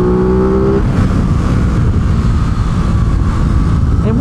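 A 2021 Aprilia RS660 motorcycle, a sub-130 horsepower sport bike, pulls hard under throttle with a loud, steady engine roar that holds throughout, and a brief tonal rise near the end may mark the shift into third gear.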